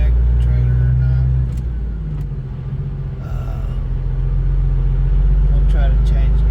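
Truck engine pulling out while towing a trailer, a deep steady low rumble that dips then swells as it pulls, heard under someone talking.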